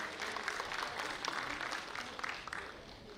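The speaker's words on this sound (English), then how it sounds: "Please, a big round of applause, Miss Sweetie Pala." Audience at a film festival opening ceremony applauding, dense sustained clapping spread across a large crowd, moderately distant and steady for several seconds.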